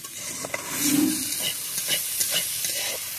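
Pumpkin peels and potatoes get stirred in a covered pan as they soften and fry, with a steady sizzling hiss under soft scraping strokes of the spoon, close up and without speech.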